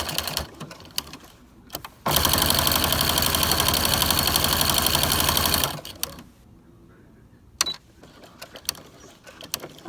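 A sewing machine sews a cloth pad to muslin, its motor running in one steady, loud stretch of rapid stitching of about four seconds, framed by quieter handling clicks and rustles.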